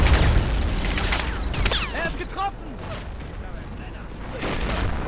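Loud, dense battle noise in the video game Men of War: Assault Squad 2 (Cold War mod), with heavy booming cannon blasts and rapid gunfire, a chaotic wash of explosions and bursts with a voice speaking over it.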